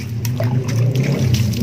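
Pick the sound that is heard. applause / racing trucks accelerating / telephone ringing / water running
water running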